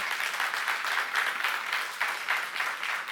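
Steady audience applause fills a church seminar room, a dense, even wash of clapping that stays loud and continuous the whole time, with no voices over it.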